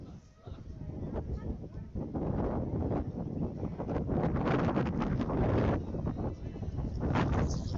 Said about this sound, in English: Breezy today, to say the very least, here in Graham County.